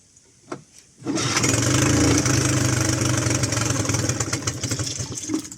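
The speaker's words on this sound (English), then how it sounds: "I'm just going to give it a little bit of throttle, not in gear." A Mercury 9.9 outboard with starting trouble catches after a couple of brief knocks, then runs loud and close, revving unevenly on the throttle out of gear.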